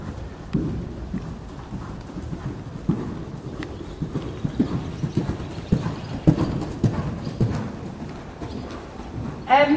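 Horse hooves cantering during a dressage test, a rhythmic muffled clip-clop of three-beat strides on an arena surface, continuous and moderately close, with faint background voice.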